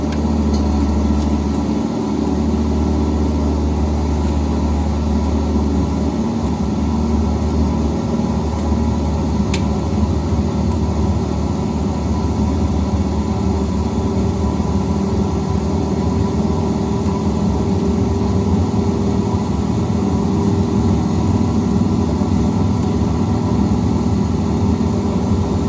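A Cessna engine in a home-cockpit flight simulator runs at full takeoff power, a loud, steady drone with a low rumbling hum that holds constant throughout, no talk over it.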